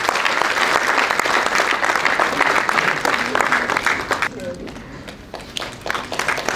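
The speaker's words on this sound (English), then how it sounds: "Please give them a round of applause as we welcome" A large audience gives a sustained, loud round of applause at the launch of The Gambia's first national security policy, dense continuous clapping that thins out briefly near the end before picking up again, with voices mixed in.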